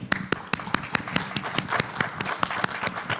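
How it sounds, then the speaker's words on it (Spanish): Steady rhythmic clapping in a quiet room after a group presentation at a public-sector human resources course: sharp, evenly spaced claps, fairly soft overall, from what sounds like a small audience. "Fuerte aplauso."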